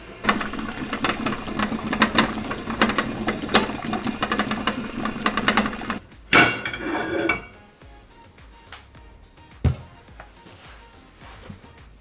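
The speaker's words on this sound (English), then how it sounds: "I had to stop filming because the boiling was so loud." A dense bubbling, rattling clatter of boiling candle wax fills the first half, then cuts off into near quiet with a couple of clunks.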